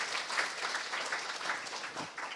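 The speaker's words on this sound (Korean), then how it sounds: "모두 함께 박수 한번 칠까요?" Faint, steady applause from an audience at a 5.18 citizens' forum in Gwangju, with many hands clapping together in an even patter that continues without speech.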